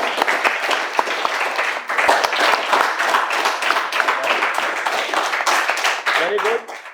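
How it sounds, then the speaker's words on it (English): Students applaud at a school award ceremony, a dense, steady wash of clapping from a crowd that runs for about six and a half seconds before trailing off, with faint voices mixed underneath. "Clapping, guys."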